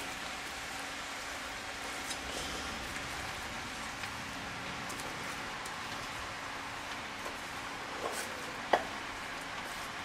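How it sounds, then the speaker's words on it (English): A mix of black, red and white quinoa with brown rice is stirred in a frying pan, giving a steady soft sizzle and scraping with a few sharper clinks near the end, with no talk. "all we have to do now is add the quinoa and rice mix"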